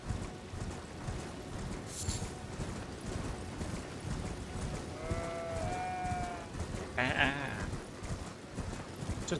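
Sheep in the Elden Ring video game let out a few faint bleats over a busy background of hoofbeats and ambient game sound, with a brief voice in the mix.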